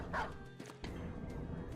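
A war dog in the Battle Brothers video game gives a single short bark at the start, followed by a steady murmur of game ambience.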